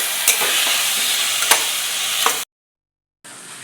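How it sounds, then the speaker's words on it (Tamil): Tomatoes sizzle and fry in a pan with a few stirring scrapes, loud and close, then a brief silent gap before the sizzling resumes. "ரெண்டு நிமிஷம் வதக்கிட்டேன்."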